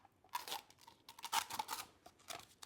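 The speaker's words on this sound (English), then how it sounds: "I'm going to take my first strip of tape here" Strips of duct tape being peeled and handled for a hat, a series of quiet, crackly rips and crinkles in short uneven bursts, close up with no voices.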